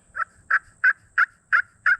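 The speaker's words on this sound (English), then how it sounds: "So the pot call is really good for your soft yelps" Six evenly spaced turkey yelps made on a pot call, a crisp, close repeated series with short clear notes and quiet gaps between.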